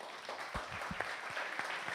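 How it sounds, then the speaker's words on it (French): An audience claps for a couple called up during a live show, a lively burst of applause with distinct close claps over a steady crowd patter. "un tonnerre d'applaudissements pour Sandrine et Thibaut."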